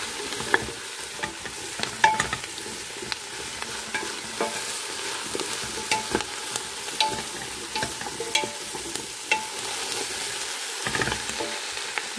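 Vegetables frying in a pot over low gas, stirred with a utensil: a steady soft sizzle with scattered clicks and scrapes of stirring throughout.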